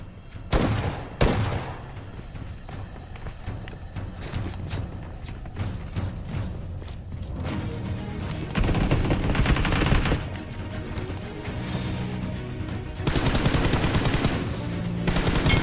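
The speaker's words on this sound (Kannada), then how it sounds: "ಡೈರೆಕ್ಟ್ ಗನ್ನಲ್ಲೇ ಫೈಟ್ ಆಗುತ್ತೆ" Gunfight in the mobile battle royale game BGMI: rapid bursts of automatic gunfire crackle in repeated volleys, loud and close, with short pauses between bursts.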